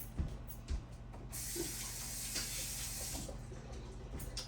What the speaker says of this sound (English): let's rinse that spoon off